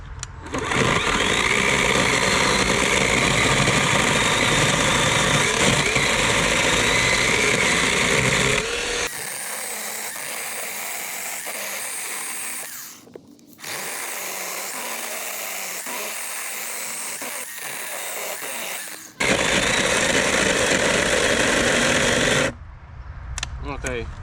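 An Einhell GC-KS 18 Li cordless chainsaw with an Oregon chain cuts dry wood, whining loudly in two long bursts separated by a quieter stretch and a brief stall, with a person talking in between.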